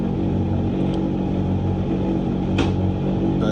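An aging Hoover condenser dryer motor hums loudly and steadily with a dense low drone, with faint clicks and a brief rattle partway through.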